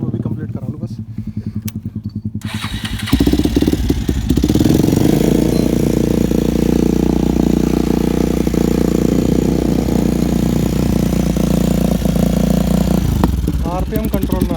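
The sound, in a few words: stunt motorcycle engine starting after spark plug change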